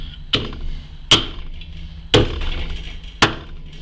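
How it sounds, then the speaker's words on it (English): Meat chopper hacking through venison ribs on a board, four loud, sharp chops spaced about a second apart, each a heavy close thwack with a short ringing tail and quiet between. "I'm just going to get my chopper. Might make a bit of a noise here."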